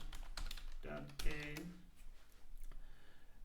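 Fingers typing on a computer keyboard while setting up a database for a Python FastAPI to-do app, giving faint, irregular clicks and key taps under a voice.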